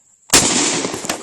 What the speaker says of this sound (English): long barrel shotgun. Slug through the dew.